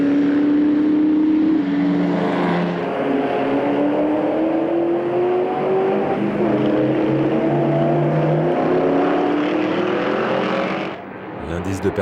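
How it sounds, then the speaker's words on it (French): Classic race cars, including AC Cobras and a TVR Griffith, lapping at the Spa Classic 2011 historic race meeting, engines droning and shifting pitch steadily throughout under a French commentator's continuous voice. "la Cobra numéro 27, maintenant pilotée par David Hart, est toujours en tête devant la TVR Griffiths qui a gagné une place"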